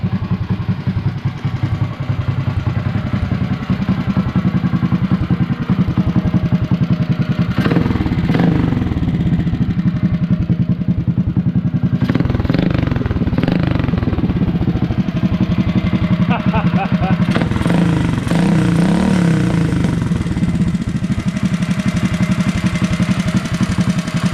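A Predator 212 small engine running with a newly built exhaust, a loud, steady, close mechanical drone with clattering and a few rises in revs, while a person talks over it.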